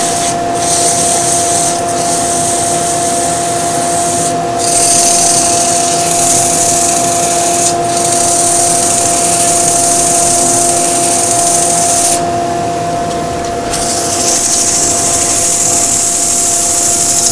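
Power sander working a wooden bowl with 100 grit sandpaper, a loud continuous whirring hiss with a steady motor hum, swelling and easing as pressure changes, briefly dipping in places.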